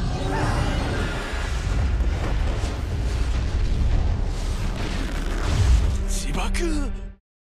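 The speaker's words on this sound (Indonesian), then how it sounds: "para Wyvern melakukan serangan meledakan diri yang membuat Hosina menjadi semakin terpojok" Booming explosions from wyverns' self-destruct attacks in an anime battle rumble continuously and loudly, with crashing debris. A voice speaks over them before everything cuts off abruptly.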